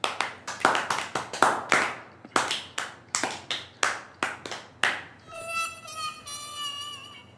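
A studio audience at a Pakistani comedy talk show claps in steady, evenly spaced bursts for about five seconds. Sustained musical tones follow once the clapping stops.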